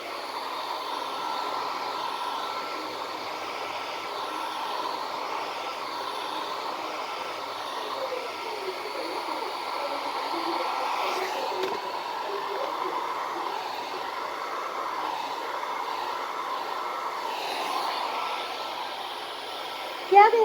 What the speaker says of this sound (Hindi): एक हाथ से ड्रायर चल रहा है